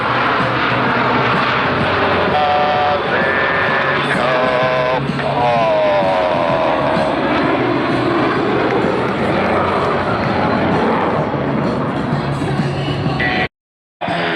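Blue Angels jets fly the diamond aileron roll at an airshow, a loud, continuous engine roar with shifting tones as the formation passes, with faint announcer speech beneath.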